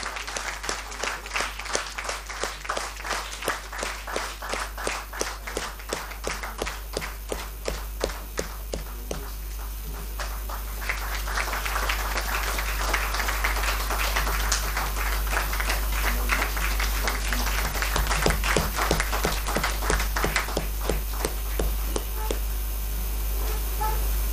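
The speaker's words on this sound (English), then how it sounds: "Big round of applause for them." Audience applause at an annual day ceremony as award winners receive mementos, sustained crowd clapping in a hall that swells in the middle and continues at moderate loudness for over twenty seconds.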